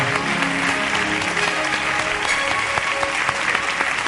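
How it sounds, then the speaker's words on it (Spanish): A church congregation claps steadily and enthusiastically, a dense wash of applause that holds at a constant level throughout. "Denle un aplauso fuerte a Dios"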